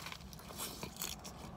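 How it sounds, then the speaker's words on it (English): A bite into a Wendy's Crispy Panko Fish Sandwich gives soft, close crunching and crackling, a few quiet crisp bursts of the breaded fish with no talking. "We'll take a quick bite down the hatch."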